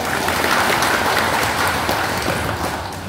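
Dense applause from a large audience at a teachers' gathering in Cilacap, loud and continuous like heavy rain, fading slightly toward the end.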